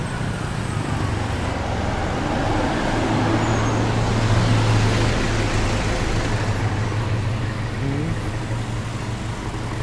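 Steady car traffic rolls along a street in Chiang Mai, Thailand, a continuous broad roar of passing vehicles with a low engine hum rising and falling, fairly close and unbroken by talk.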